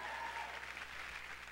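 Applause from a theater audience welcoming the host at a show's curtain call, a quiet, distant, even patter of clapping.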